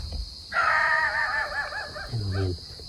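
A dog gives a few harsh, raspy barks and yelps in quick succession, fairly close, in a forest, with bird-like calls also blending in.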